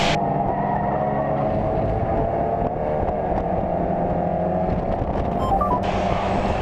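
A Mazda MX-5 race car on track at Silverstone, its engine droning steadily and loud from start to finish as it slows under braking and turns in, with a brief higher-pitched chirp near the end.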